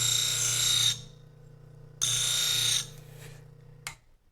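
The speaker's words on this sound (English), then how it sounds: "go back over to the chop saw, using WD-40 as a cutting lubricant" A chop saw lubricated with WD-40 cuts through aluminum in two bright, screeching bursts of just under a second each, close and loud over a low motor hum, ending with a short clank.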